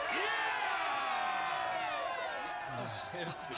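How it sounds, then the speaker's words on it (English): Crowd cheering and shouting in the video game Suikoden 4, a dense, sustained roar of many voices held steady for a few seconds before easing slightly at the end. "Just cheering is enough to make them shake."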